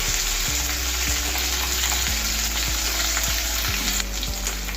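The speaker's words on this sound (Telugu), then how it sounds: "కొంచెం ఈ ఉల్లిపాయలు అనేది మనకి బ్రౌన్ కలర్ వచ్చే వరకు వేయించుకోవాలి." Onions for aloo matar pulao fry toward brown in hot oil, making a loud, dense sizzle that holds steady over a faint low hum.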